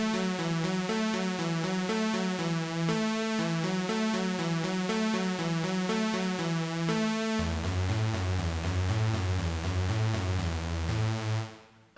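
A Roland MC-303 synth lead with reverb and autopan plays a steady repeating melodic sequence, with a lower bass line taking over partway through, continuous and even before fading out at the end.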